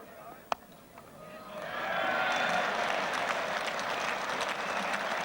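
Crowd applause at a 1991 England versus West Indies cricket Test match, rising after a brief sharp knock and holding as a steady, moderately distant clapping wash.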